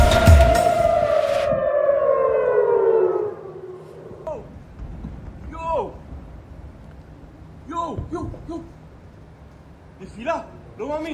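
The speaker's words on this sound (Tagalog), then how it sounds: "Dumadagundong na tunog ng sirena kasabay ng mga pagsabog ang narinig sa Israel." Air raid sirens wail during a missile attack in Israel, a loud descending siren tone at first, then fading behind scattered voice-like calls and background noise.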